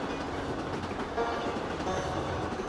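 A train rolls along in the video game Ira, a continuous low rumble with rhythmic clacking of wheels over rails, steady and moderately loud without voices.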